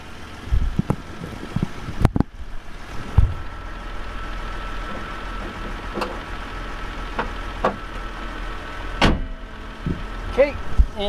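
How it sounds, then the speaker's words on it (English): A 2001 Toyota Land Cruiser Prado hood is lowered and shut: a couple of solid metallic thumps and clunks stand out over quiet handling noise and faint rustling. "gonna lower the hood"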